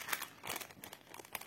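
Crinkling and tearing of parcel wrapping as a package holding a wooden craft organiser is opened, a quick run of close, papery crunches and rustles with short bursts.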